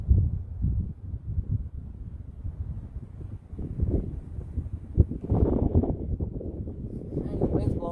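Gusty outdoor wind rumbles and buffets the microphone beside a 1969 Mustang left rained in for 21 years while fuel is poured into its carburetor float bowl; the low roar swells and drops, loudest near the end.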